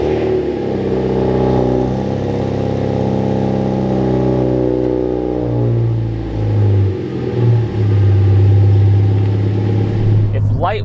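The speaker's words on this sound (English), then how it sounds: "here's what a cold start sounds like." A Mazda NC Miata roadster engine cold starts with a RoadsterSport race exhaust, settling into a loud, throaty idle with low rumbling exhaust, revving briefly near the end.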